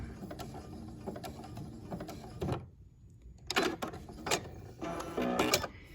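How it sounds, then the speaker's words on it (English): Domestic sewing machine back stitching to secure a fabric quilt binding, giving short bursts of mechanical whirring and clatter separated by brief pauses, close and moderately loud with no talking. "I'm gonna do a back stitch to secure it."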